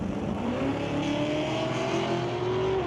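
A Fox Body Ford Mustang drag racing at an NHRA Northwest National Open Series event, a loud sustained engine roar with rising pitch as it accelerates down the strip, nearby and continuous.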